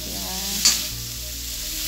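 Meat dry-frying in a pan sizzles with a steady close hiss, broken by one sharp louder spit partway through, with no talking.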